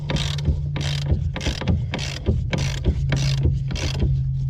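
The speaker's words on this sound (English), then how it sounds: "our long 1/2-inch drive ratchet and a 15mm, and you have 3 mounting nuts on the top of this strut up here" A long half-inch drive ratchet with a 15mm socket loosens the mounting nuts on top of a Buick LaCrosse rear strut, giving repeated rhythmic clicking strokes, close and fairly loud, over a constant low hum.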